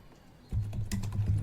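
Quick, close keystrokes tap on an HP laptop keyboard, a short burst of light clicks lasting about a second.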